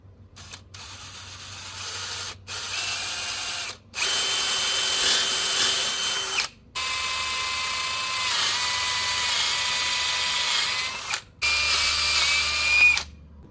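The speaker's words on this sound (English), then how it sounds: "So all 4 holes have been drilled." A power drill bores mounting holes for a hose reel in several separate runs of steady, high-pitched whirring, each a few seconds long with short silent pauses between them, close and fairly loud.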